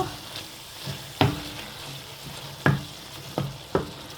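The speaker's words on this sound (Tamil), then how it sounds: "எல்லாத்தையும் போட்டு நல்லா குக்காக விடுங்க வதங்குறதுக்கு விட்டுட்டு" Tomato rice masala with Jaffna curry chili powder frying in a pan, a low sizzle broken by several sharp scrapes and knocks as a spoon stirs, heard close up without voices.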